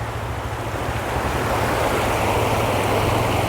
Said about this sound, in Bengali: জলটা এখান দিয়ে পড়ছে